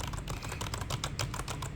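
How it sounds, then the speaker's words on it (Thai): Rapid keystrokes on a Logitech MK345 wireless keyboard, a steady, fairly quiet clatter of many key presses in an uneven rhythm, heard alone with no voices. "ผมจะให้ฟังเสียง ผมเน้นนะแต่ละคีย์บอร์ดนะ"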